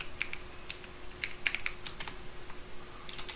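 Java code is typed on a computer keyboard with quick, irregular clusters of close key clicks over a faint steady hum, and no one speaks.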